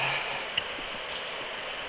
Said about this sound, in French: j'espère que le bruit de l'eau va pas tout parasiter